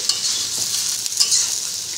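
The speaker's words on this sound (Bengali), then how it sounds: "আলু পটল খুব ভালো করে ভাজা হয়ে গেছে" Potato and pointed gourd fry in a pan over low to medium heat, giving a steady, close sizzle with light stirring scrapes and no talk.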